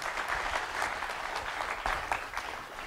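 Audience applause at a talk on engineering and art, a dense steady patter of many hands clapping continuously, moderately loud and close throughout.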